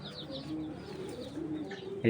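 Army pigeons coo at close range among several fancy pigeon breeds, with soft, repeated low coos and a few faint chirps layered together. A sharp bump sounds at the end.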